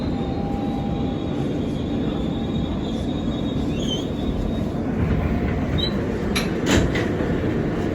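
A New York subway F local train stands in the station, a steady loud rumble of motors and ventilation with faint squeals and a few clanks near the end.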